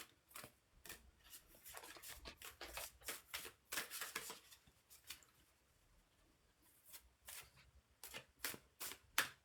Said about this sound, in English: Just going to shuffle until the cows come home